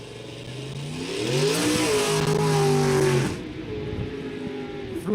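Rotary-engined Rugrat drag race car at a Trinidad and Tobago drag racing meet, its engine droning and revving with rising pitch sweeps, loudest in the middle and then settling to a steadier idle, close and alone.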